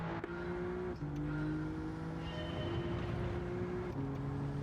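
Simulated car engine from Gran Turismo 7 during a licence test, a steady droning tone rising through the revs with brief dips at gear shifts, loud and continuous without voices.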